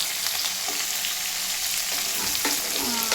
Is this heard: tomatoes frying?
yes